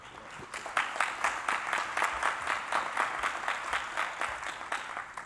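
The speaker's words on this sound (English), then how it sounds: "That needs an applause." A lecture audience applauds for several seconds, the steady patter of many hands sounding close and fairly loud, with a rhythmic pulse running through the clapping and no speech over it.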